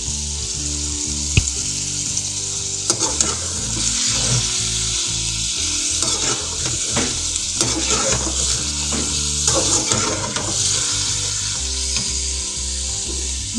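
Vegetables, tomatoes and chillies sizzle and fry in a pot with ginger-garlic paste and garam masala. A steady, loud hiss runs throughout, with occasional scraping and stirring knocks close by and no talking.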